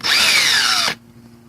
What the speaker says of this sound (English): I'm going to take these 2 screws out.